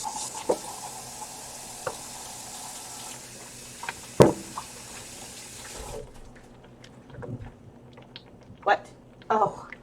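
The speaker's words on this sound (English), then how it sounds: "I'm going to wash my hands." Water runs from a tap as hands are washed, a steady splashing hiss for several seconds that then stops, followed by scattered knocks and clatters in a quieter room, with brief voices.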